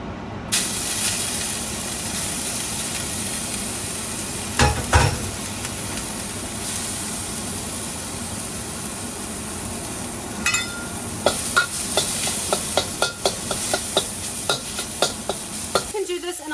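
Sesame oil sizzles and hisses steadily in a hot wok during stir-frying, with scattered clatters and a burst of quick scraping strokes near the end, close and loud, no voices.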